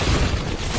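A close, loud bomb explosion from the game Apex Legends, a short dense booming roar with no talk over it.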